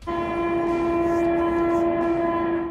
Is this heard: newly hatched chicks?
no